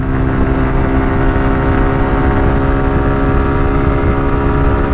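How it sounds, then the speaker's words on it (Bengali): A motorcycle engine pulls steadily from fourth gear on a village road, a loud continuous droning hum with wind rumble, close and unbroken. "এবার চার গিয়ার থেকে টানা শুরু করছি"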